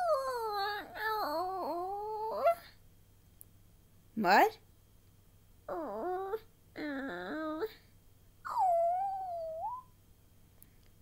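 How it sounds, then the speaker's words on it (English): A dog whimpers in a series of high, wavering whines and yelps with short pauses between them, close by; a voice briefly speaks among them. "covered his face with his paw and whimpered again"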